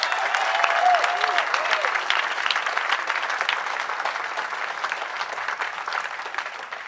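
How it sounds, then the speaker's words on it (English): Audience at a university union solidarity rally in Liverpool breaks into sustained applause, a dense, steady wash of clapping that fades only slightly over several seconds, with a faint voice tone briefly audible early on. "Can we give them a round of applause?"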